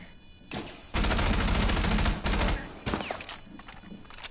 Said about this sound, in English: That sounds like the M45 suppressed.